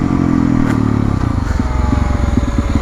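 A Yamaha 450 YZF 60th anniversary supermoto motorcycle, loud and close, holds a steady buzzing note before the engine note shifts into a rougher, pulsing run.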